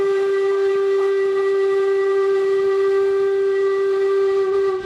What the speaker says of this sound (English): whistle time is coming any second, and if you're sitting outside, our whistle is not subtle